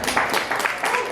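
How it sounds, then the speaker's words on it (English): An audience applauds a guest at a live sitdown interview event, giving a short burst of clapping in a few loose pulses that sounds fairly close and full. "Everybody give a hand for Chudi."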